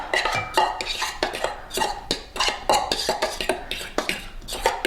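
Grated celery root salad being tossed with dressing in a bowl, a busy run of wet scraping and clinking utensil strokes in quick irregular rhythm, close and loud with no talking.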